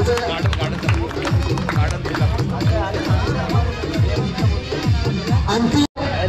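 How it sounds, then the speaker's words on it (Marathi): A crowd at a cricket tournament prize ceremony claps in a dense, rhythmic burst that runs throughout, with murmuring voices mixed in and a brief dropout near the end. "एकदा टाळ्या वाजून त्यांचं स्वागत करायचं"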